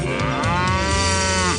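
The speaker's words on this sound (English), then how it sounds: "Raising cattle is a business." Cattle mooing in an agricultural banking advertisement: one long, loud, drawn-out moo held steadily through the clip, with no talk over it.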